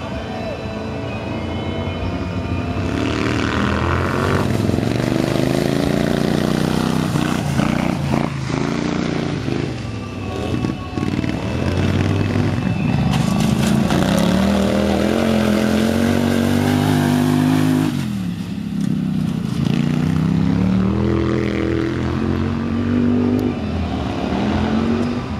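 Racing lawn mowers roar at full throttle during practice at a 2014 lawn mower race in Böbing. Engines rev and fall as machines pass close by, rising in pitch on acceleration, with a continuous, loud drone throughout.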